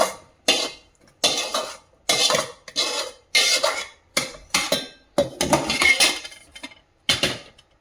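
Fried palak paneer ingredients tipped into a mixer jar, giving a run of about ten separate clattering, scraping knocks of metal against metal in an irregular rhythm, close and fairly loud with short pauses between them.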